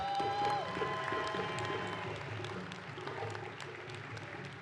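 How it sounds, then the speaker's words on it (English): Audience applause fills a theatre at an African Heritage graduation ceremony, a soft, distant, continuous wash of clapping with faint crowd murmur and a brief tonal sound near the start. "Can we give them another round of applause,"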